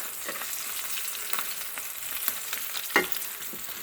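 Three pieces of fish fry in a pan of oil, making a continuous close sizzle with occasional spits and one louder crackle near the end. There is no speech.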